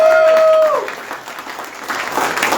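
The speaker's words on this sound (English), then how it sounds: "Let's clap for him." An audience at a Hanukkah gathering in Richmond, BC claps for Frank Davidson. A steady wash of applause follows a brief tonal note, dips midway and swells again toward the end.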